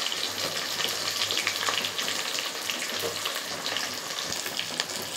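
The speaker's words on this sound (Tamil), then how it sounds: "வெங்காயம், பூண்டு, கருவேப்பிலை, சுண்டைக்காய் எல்லாம் ஒன்றா போட்டு நல்லா வதக்குங்க." Onion, garlic, curry leaves and turkey berries sautéing in a pan for a kara kulambu, a continuous close crackling sizzle with faint scraping, steady throughout and free of speech.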